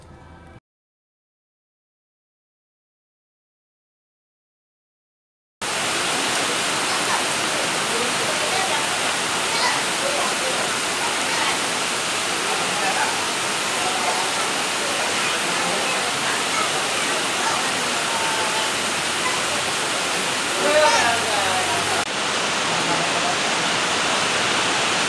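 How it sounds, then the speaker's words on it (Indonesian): Heavy, prolonged rain in a Felda settlement in Malaysia pours as a dense, even roar that starts abruptly after about five seconds of silence and continues unbroken at a strong level. "Hujan lebat, lama sangat."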